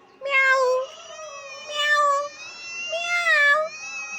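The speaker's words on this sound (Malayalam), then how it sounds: "ഒരു പൂച്ചക്കുട്ടി എന്നെ കണ്ടിട്ട് ഓടി വരുന്നത്" A kitten on the Andaman Islands runs up meowing, giving three drawn-out, fairly loud meows spaced about a second apart, close by and with no talk.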